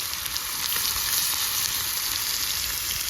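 Marinated fish pieces frying in hot oil for a fish fry, giving a steady, close, even sizzle with a faint crackle and no voices.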